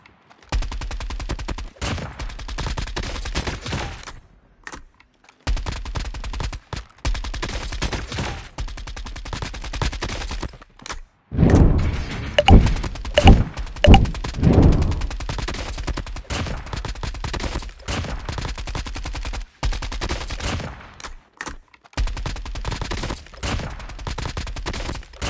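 Repeated bursts of automatic rifle fire in a shooter video game are loud and close, with short pauses between volleys and a denser cluster of shots near the middle.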